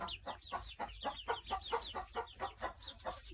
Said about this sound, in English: Sapphire Gem is the rooster